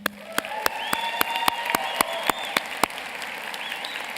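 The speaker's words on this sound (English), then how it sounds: "I'd like to ask the graduates to give them a quick round of applause for the faculty who helped you" Graduates at a 2013 commencement ceremony applaud their faculty, a steady crowd clapping with a few sharp, distinct claps standing out near the microphone throughout.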